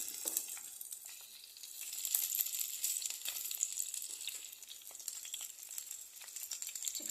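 Broad beans frying in hot oil give a steady, bright sizzle with crackling bursts throughout, fairly close and continuous with no voices.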